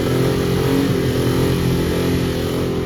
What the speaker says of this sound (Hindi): फाइनली गाड़ी स्टार्ट हो चुकी है